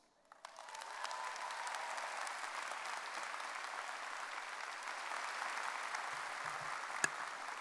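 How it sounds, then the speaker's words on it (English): A university convocation audience applauds honorary degree recipients, a sustained wash of clapping from a large hall that rises quickly and holds steady, heard at a distance. "I think you've earned that applause."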